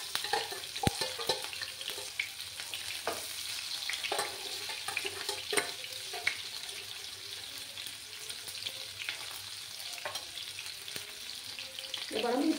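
Chopped onions sizzle steadily in a hot pan while a Katla fish red curry is prepared, a constant frying hiss broken by scattered scraping stirs and a few sharp clinks, with no talk throughout.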